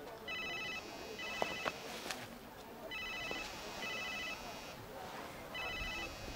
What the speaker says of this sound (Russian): Ну, вы трубку, наконец, возьмите.